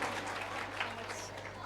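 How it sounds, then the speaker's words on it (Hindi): A game show studio audience claps for a contestant after a correct answer, a soft, diffuse wash of applause with a steady low hum underneath and faint crowd murmur. "जोरदार ताली इनके लिए, जोरदार"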